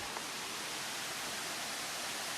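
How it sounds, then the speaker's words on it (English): Running water of a small waterfall spilling into a pool near a cave, a steady broadband hiss and rush, constant and moderately loud with no other sounds. "I hear a lot of water, and it seems like there might be some kind of cave down here."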